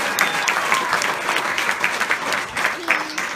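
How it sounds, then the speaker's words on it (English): Children at a summer camp clap in steady applause, a dense crackling patter that stays loud and continuous throughout, with scattered voices mixed in. "Let's give him a round of applause."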